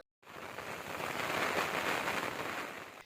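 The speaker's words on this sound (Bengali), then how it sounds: "দমকা হাওয়াসহ বৃষ্টি শুরু হয়েছে" Rain with gusty wind from Cyclone Remal on the Bangladesh coast makes a dense, steady hiss that swells after a brief silent start and then holds evenly, fairly faint, with no voices.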